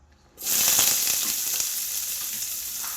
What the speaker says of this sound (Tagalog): isasotay natin yan para lumabas mag-caramelize siya